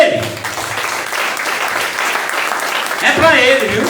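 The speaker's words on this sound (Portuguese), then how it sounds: "Pois aplauda Ele." A church congregation claps steadily in a large room during a Portuguese worship service, and a voice speaks over the applause toward the end.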